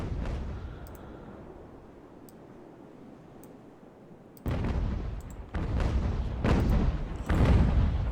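Broadside cannon fire from sailing warships in a naval battle game set in the age of sail, a run of deep booming blasts that rise sharply from a quieter rumbling background and roll on loud and close toward the end.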